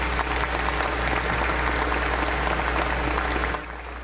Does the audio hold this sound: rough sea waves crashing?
no